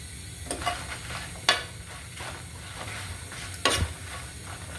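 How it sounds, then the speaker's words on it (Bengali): Hathazari sweet peppers fry in oil with a soft constant sizzle, broken by a few sharp scrapes and knocks of a stirring spoon against the pan. "হাটাজারের মিষ্টি মরিচ দিয়ে দিচ্ছি এগুলোতে ঝাল নাই এগুলো একটু ভেজে নিব"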